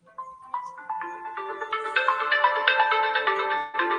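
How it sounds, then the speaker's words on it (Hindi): A phone ringtone for an incoming call plays a rising melodic sequence of bright tones, starting with single notes and building into a fuller, louder jingle, heard alone in a quiet room. "एक फोन आ रहा है, जरा रिसीव कर लो"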